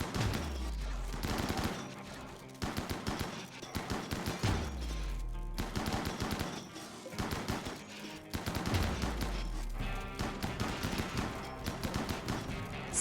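Colonists firing weapons in the Rimworld video game, a dense, continuous barrage of overlapping gunshots and rapid bursts, loud and close, with occasional deep low booms.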